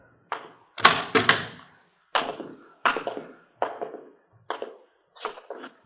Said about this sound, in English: You want to open the door?